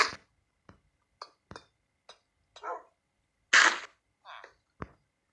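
A tamed Minecraft dog barks in short, sharp yelps, about eight scattered bursts with silence between them, close and clear.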